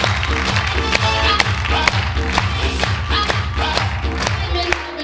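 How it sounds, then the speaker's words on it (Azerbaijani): A large crowd at a show in Azerbaijan breaks into applause that stays steady and dense throughout, with occasional cheers mixed into the clapping. "Gəlin, alqışlayaq bu hadisəni."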